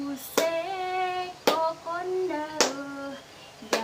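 Hands clap sharply about once a second while a group sings a regional children's song, Apuse, in a classroom lesson; the claps stand out as crisp bursts over the singing voices.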